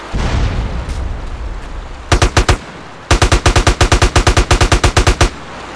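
In the video game Battlefield, a low rumbling boom fades out, then loud rapid bursts of automatic gunfire: a short volley, a pause, and a longer sustained string of shots.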